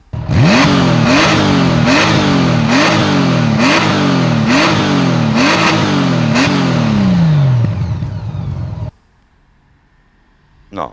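Honda Gold Wing F6C motorcycle engine revving hard in a run of about seven rising throttle blips, loud and close, then cutting off abruptly to near silence with a faint noise at the very end.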